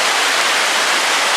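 Snowmelt water flowing in a trout fishing stream, a steady broadband rush that holds constant throughout, close and fairly loud with no voices.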